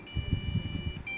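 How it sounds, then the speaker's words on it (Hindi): A Lenovo IdeaPad 330 laptop under repair on a workbench gives a thin, steady electronic beep lasting about a second, with a brief break before it resumes, over low bumpy background noise. "देखिए बीप साउंड हमारा आ चुका है"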